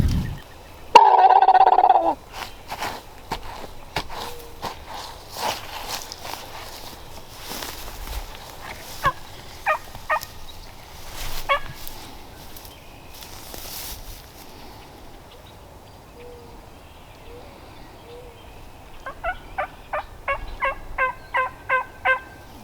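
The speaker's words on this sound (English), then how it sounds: "I think it was a Jake we had gobbling at us." A wild turkey jake gobbles in open country during a Nebraska spring hunt, a few distant rolling bursts amid birdsong and rustling footsteps, with a sharp loud call near the start.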